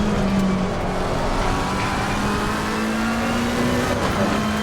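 A McLaren race car drives on track at Barcelona with a steady, loud engine drone whose pitch holds, dips briefly under braking and rises again, continuous and close.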